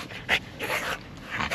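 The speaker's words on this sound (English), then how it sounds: "Absolute mental dog." A dog pants in short, quick bursts close by, with a faint whimpering edge and no voices.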